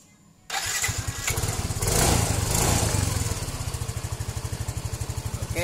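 A Yamaha Fino 125 scooter engine starts with a short crank, then revs up loudly before settling into a rapid, steady putter at close range.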